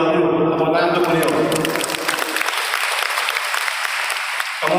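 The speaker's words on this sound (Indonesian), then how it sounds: "Tepuk tangan untuk beliau." Seminar audience clapping for a guest professor, loud dense applause that runs throughout, overlapping at first with a voice over the speakers before the hall is left with clapping alone.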